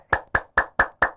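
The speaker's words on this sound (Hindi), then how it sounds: "अब सभी को ताली बजाना है एक साथ" Five sharp, evenly spaced hand claps ring out in unison from a yoga group, each a crisp close burst with short decay and no voices between.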